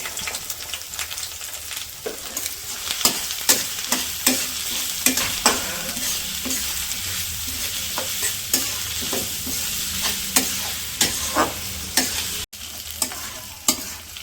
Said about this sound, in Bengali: তেল দিয়ে দিই, তেজপাতা, পেঁয়াজ আর কাঁচামরিচ,